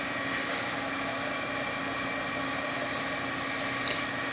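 A machine spindle motor, apparently on a Haas VF6 mill, holds full speed as a dense, steady mechanical whir with constant loudness, close and unbroken, with no voices.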